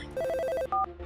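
A mobile phone rings from a repeated incoming call: a rapid run of bright, even electronic beeps followed by a higher sustained tone, loud and close, with no talking.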